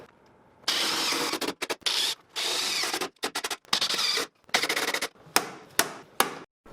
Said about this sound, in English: then I will snap the rivets in